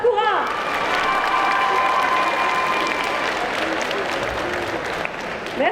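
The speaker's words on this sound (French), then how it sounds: "de grands applaudissements pour Sakura" A cosplay contest audience at Bordeaux Geekfest 2023 bursts into dense, sustained applause for a cosplayer, with scattered cheers and a voice over the clapping before it tapers near the end.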